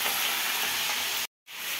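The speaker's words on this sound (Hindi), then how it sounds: "यहाँ पे तेज़पत्ता, जीरा और हींग तड़का लगा के आलू को फ्राई करूँगी" Potatoes frying in hot oil tempered with bay leaf, cumin and asafoetida, giving a steady, loud close sizzle that cuts out briefly near the end, then resumes; no talking.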